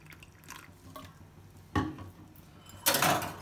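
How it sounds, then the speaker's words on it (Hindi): Water is poured into custard powder in a bowl in a home kitchen, giving a couple of short splashing pours with faint clinks of utensils between them, close and clear. "कस्टर्ड ले लिए, इसमें हम थोड़ा सा पानी शामिल कर देंगे।"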